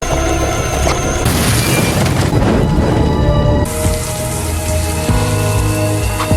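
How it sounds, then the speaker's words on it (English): A bomb exploding in an action film, a dense, loud burst of rumbling crash and crackle over a sustained roar that fills the whole stretch, with no speech. "the bomb that Jennifer had made exploded, setting Adrian's body on fire"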